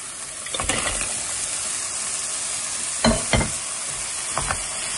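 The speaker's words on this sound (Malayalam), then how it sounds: "ഇനി ഇതെല്ലാം ഒന്ന് ഇളക്കി ഇതിൻ്റെ പച്ചമണം ഒന്ന് മാറിക്കഴിയുമ്പോൾ നമുക്ക് ഈ പ്രോൺസ് ചേർത്ത്" Prawns with Kashmiri chili masala sizzle steadily in a hot pan, broken by a few close scraping strokes of a spoon as the mix is stirred, with no talking.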